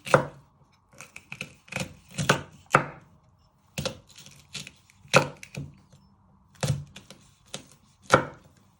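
A knife slices a vegetable finely on a wooden chopping board, giving a run of crisp, close taps in uneven bursts with short pauses between them.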